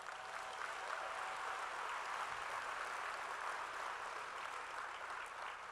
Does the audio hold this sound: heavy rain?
no